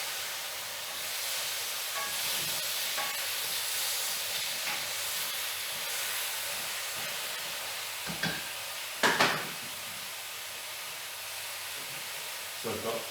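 A full pot of vegetable stew simmering with a steady broad hiss and steam, with a few scraping clunks of a spoon stirring near the end.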